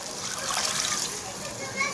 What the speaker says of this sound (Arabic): هحط كوبايتين ونص ميه ونص كوبايه للشعريه عشان تستوي